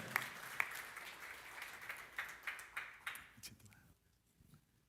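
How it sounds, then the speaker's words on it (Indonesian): A church audience welcomes a pastor with applause, a faint, distant patter of clapping with a few louder accents that fades out near the end, under a quiet voice. "Kita beri tepuk tangan yang meriah."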